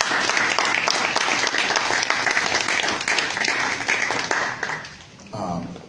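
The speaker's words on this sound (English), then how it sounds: "everyone here should give him a hand of applause" Audience applause at an award of excellence ceremony, dense sustained clapping that thins and fades near the end as a voice briefly cuts in.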